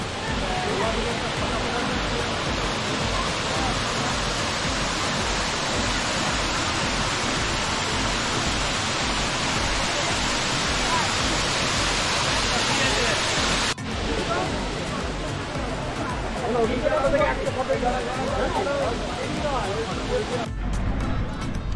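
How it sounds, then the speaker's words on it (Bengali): A waterfall on Ajodhya Pahar in Purulia, at the second step of the falls, roars as a loud, constant rush of water that fills the whole clip without letup. "সেকেন্ড স্টেপের ঝর্ণাটা দেখুন"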